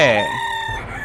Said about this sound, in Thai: ที่ทุกคนเห็นอยู่นี้ก็คือ ผีฆาตกรไก่ ที่จิกเด็กตายบนปากโอ่งหรือมันมีอีกสมญานามก็คือ ผีไก่แจ้